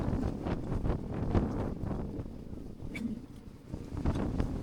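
Wind gusts over an open outdoor lot where building materials such as cement are stored, heard as a continuous buffeting rush against the microphone that swells and eases, with no voices.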